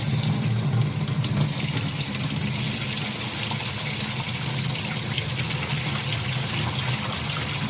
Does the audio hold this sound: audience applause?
no